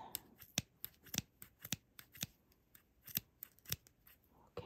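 Scissors snip through wrapped yarn loops while a tiny knitted sweater for a small dog or kitten is being made. There are more than a dozen crisp, close cuts in an uneven rhythm over faint background.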